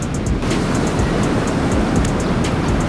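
Ocean waves washing onto a beach, a loud continuous rushing surf with some wind buffeting the microphone and faint higher ticks, no voices.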